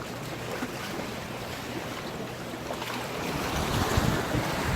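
Waves and gusting wind at the end of a pier at night, a steady broadband wash that swells louder toward the end, with no voices.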